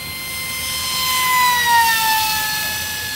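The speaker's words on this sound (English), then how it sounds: "Look at the plane." Jet aircraft passing overhead, a loud, steady whining roar that swells toward the middle and slowly fades, heard outdoors with a descending pitch.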